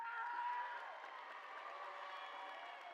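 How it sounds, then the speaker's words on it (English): A distant, faint crowd at a high school graduation ceremony applauds and cheers the graduating class, a steady wash of clapping with scattered whoops throughout. "Let's give them a huge round of applause."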